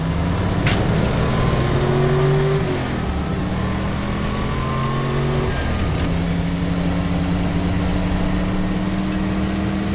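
A monster car engine in the game Teardown revs and drones loudly, its steady pitch dipping and shifting twice as the vehicle changes speed, with no talk over it.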